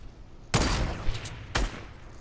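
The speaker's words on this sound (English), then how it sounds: "somebody's shooting across the way there at the other base" Two distant volleys of gunfire from another base in Fortnite, a longer burst followed a second later by a short crack, over a low background.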